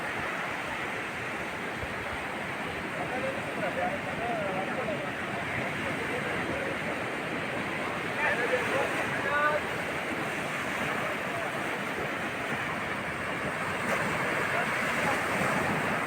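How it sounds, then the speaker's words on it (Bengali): Arabian Sea waves wash onto Gokarna beach in a continuous roar of surf mixed with wind noise, with faint distant voices underneath. "দেখুন আরব সাগরের জল কীভাবে আছড়ে পড়ছে তটভূমিতে।"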